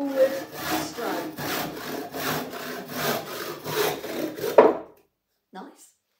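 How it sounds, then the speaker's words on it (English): A handsaw rasps through wood in steady back-and-forth strokes, about ten in a row, then stops abruptly, followed by a brief faint knock. "the sawing, the cutting, is on that forward stroke"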